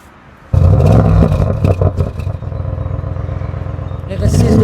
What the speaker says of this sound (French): RS6 d'origine, hein, c'est le bruit d'origine